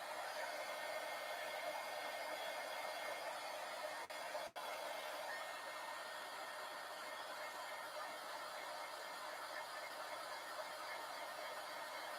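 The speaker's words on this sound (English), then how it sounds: "I would invest in a heat gun" A heat gun blows hot air in a steady, even broadband roar that holds at one level throughout, with a brief click partway through.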